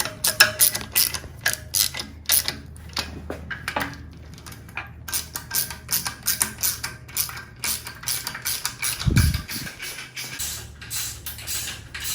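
Ratchet wrench tightening bolts on an air-cooled 40 hp Volkswagen engine during a rebuild, rapid close clicking in repeated bursts with a few metallic knocks, no talk.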